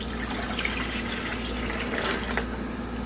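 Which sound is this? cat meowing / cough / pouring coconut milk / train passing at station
pouring coconut milk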